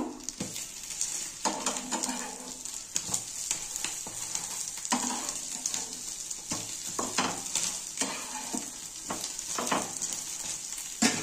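Bengali egg toast frying on a hot tawa, a steady sizzle broken by scraping and flipping clatter from a spatula, close and moderately loud.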